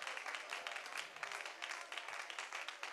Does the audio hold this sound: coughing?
no